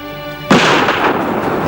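A single sharp gunshot bursts out after a steady tone, followed by a rumbling, echoing decay.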